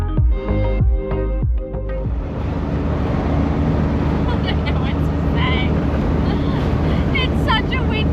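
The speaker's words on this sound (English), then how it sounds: "It's such a windy day today." Loud, constant wind roar buffeting the microphone on a windy drive on New Zealand's South Island, following a few knocks at the start, with no talking.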